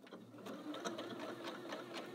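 A Janome Skyline 6 sewing machine runs slowly through a zigzag stitch on plastic material with a standard A foot, a steady close mechanical whir with rhythmic needle ticks.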